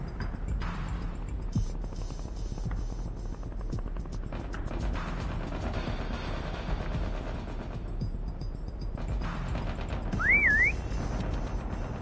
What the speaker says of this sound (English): Next whistle in 10 seconds.